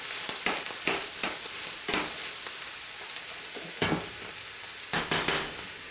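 Leftover pulled pork gets stirred in a hot pan, with bursts of scraping and clatter from the spoon in irregular clusters over a soft background sizzle, moderately close.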